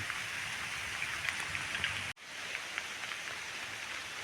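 Steady, dense monsoon rain hisses loudly and evenly throughout in a Konkan village, broken by a brief cut to silence partway through before the downpour resumes.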